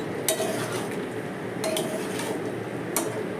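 A shrimp curry with papaya and potato, with garam masala and ghee added, is stirred in a pan. A utensil scrapes steadily, and three distinct metallic clinks come about a second and a half apart, with no talk.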